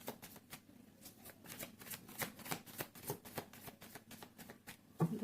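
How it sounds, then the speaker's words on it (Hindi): Tarot cards are shuffled by hand in quick, riffling bursts, a steady series of soft papery flutters and slaps, close and fairly quiet with no talk. "This is my last shuffle."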